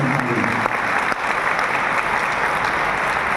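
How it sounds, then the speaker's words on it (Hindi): A seminar audience gives loud, sustained applause, a close wall of clapping with a brief voice near the start. "एक जोरदार ताली होनी चाहिए।"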